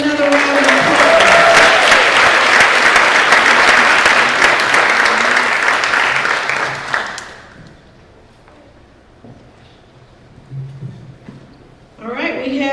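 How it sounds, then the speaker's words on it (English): Loud crowd applause at a student public speaking contest, dense clapping that sustains for about seven seconds, then fades to near quiet, with brief noise and a renewed burst of clapping near the end. "Let's give them another round of applause."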